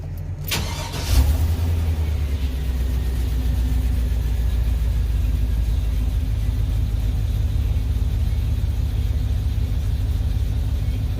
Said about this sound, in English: Oh, let's start the truck.